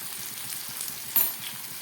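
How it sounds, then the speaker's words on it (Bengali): Taro stolons sizzle steadily in hot oil, with a single sharp scrape or clink as a fork stirs them partway through; no voices. "কচুরলতিটা অনেকটাই ভাজা হয়ে গেছে, যাতে ভেঙে না যায় তার জন্য আমি এই কাঁটা চামচটা দিয়ে নাড়ছি।"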